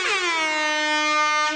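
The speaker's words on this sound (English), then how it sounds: "I'm going to give you the air horn for" An air horn sound effect blares in one loud, steady, sustained blast lasting about a second and a half, alone and without talk.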